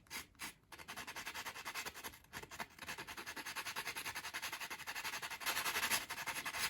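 Sandpaper rubbing along the edge of a small wooden 1/12th scale dolls house bookcase side piece, a close, steady run of rhythmic scratchy strokes that continues throughout without pause.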